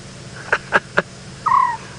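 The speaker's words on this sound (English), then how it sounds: "we can hear the scops owl" A scops owl calls at dusk during a safari drive in the African bush, three short evenly spaced hoots followed by a longer drawn-out note, fairly close and clear over a quiet background.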